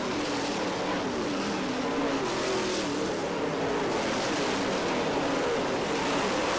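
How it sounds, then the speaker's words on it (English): Race cars circle Merritt Speedway on a final-lap run, a continuous wash of distant engine roar and crowd ambience that never breaks or fades. "White flag waves one more time around the racetrack for Frank Heckenast Jr."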